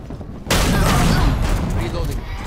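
Burst of video game gunfire erupts abruptly and continues as a dense, loud barrage of shots and booms, with speech mixed in over the shooting.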